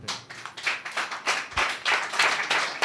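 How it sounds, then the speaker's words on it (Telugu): A church congregation clapping their hands together in quick, uneven rhythmic bursts, fairly close and lively, with no speech over it. "నమ్మిన వాళ్ళందరూ చప్పట్లు పట్టండి"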